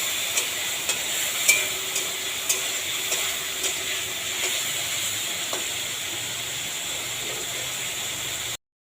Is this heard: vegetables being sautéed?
yes